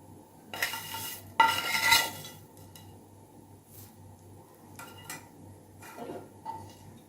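A spoon stirs vermicelli into boiling milk in a pot for sheer khurma, giving bright metallic scrapes and clinks against the pot in a few loud bursts, then lighter intermittent taps over a quiet simmer.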